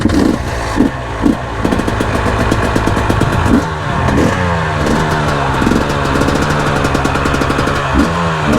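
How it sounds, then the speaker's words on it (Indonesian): An enduro trail motorcycle engine starts and idles while warming up, loud and close, with a rough, knocking, uneven idle and a few short revs. "kita persiapan manasin motor dulu guys"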